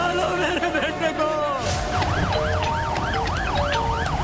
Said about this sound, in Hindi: एम्बुलेंस रास्ते में है।